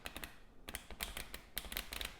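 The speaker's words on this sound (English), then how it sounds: "you're going to just one by one release the card, alternating so that they shuffle" A deck of playing cards is riffle shuffled by hand, a rapid run of crisp ticking flicks as the cards are released one by one, close and fairly quiet.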